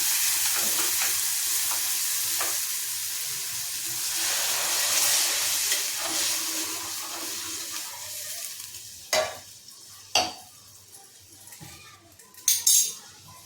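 Tomato mixture being stirred in a pan right after water is added, giving a steady wet sizzle and scraping for most of the stretch, then a few sharp utensil clinks toward the end.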